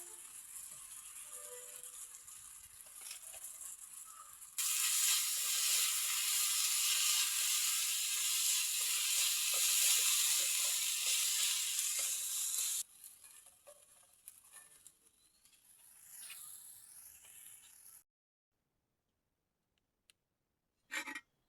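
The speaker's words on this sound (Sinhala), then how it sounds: "මේකට මම සෝයා සෝසුයි සීනි එකතු කරලා තෙල් වල පොඩ්ඩක් බෙද ගන්නවා" Chili paste with soy sauce and sugar frying in oil, village-style Sri Lankan cooking, starts as a loud, steady sizzle that lasts several seconds. It then drops to quieter stirring and scraping before fading into near silence.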